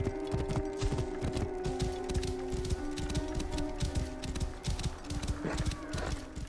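Horse galloping in Assassin's Creed Origins, with fast rhythmic hoofbeats close and steady over a sustained tonal game ambience.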